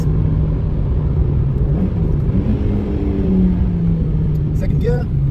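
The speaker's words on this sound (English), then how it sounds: "do a couple of downshifts." A car engine runs on a road while the driver downshifts toward a right turn, giving a steady loud rumble with a faint rise in pitch near the end.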